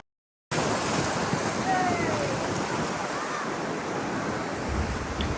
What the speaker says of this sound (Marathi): समुद्राच्या येणाऱ्या लाटा.